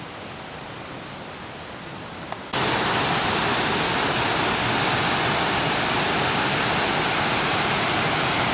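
Rushing stream beside Hadrian's Wall, flowing over red sandstone worn through by the water: a steady, loud broadband roar begins abruptly after a quieter stretch with faint bird chirps and continues unbroken, close by.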